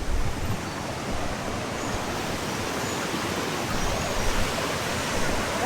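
Steady rushing water of a river at Ulu Chepor, Perak flows continuously, a broad wash of current noise with no voices.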